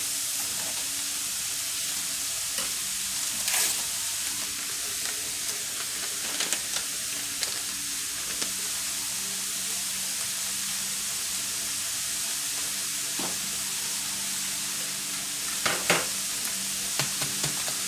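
Taco-seasoned egg roll filling sizzles steadily in a pan over medium-high heat, a constant close hiss broken by occasional scraping stirs and soft clinks from the spoon.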